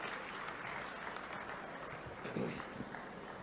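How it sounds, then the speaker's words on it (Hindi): An audience at a state-level school enrollment ceremony in Bhopal applauds steadily for a few seconds, a dense, moderately loud clapping with no speech over it. "आपकी भरपूर तालियों के साथ आमंत्रित करते हैं सर।"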